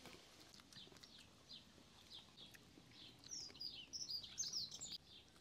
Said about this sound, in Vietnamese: Ngồi ăn khách sạn Ngàn Sao mà có chim hót đồ líu lo thấy chưa?